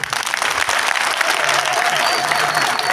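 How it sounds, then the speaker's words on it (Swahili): Audience applause at a community security meeting in Chepkurkur, steady clapping from a crowd throughout with faint voices mixed in. "Wacha tuwapigie makofi wale wote wameongea."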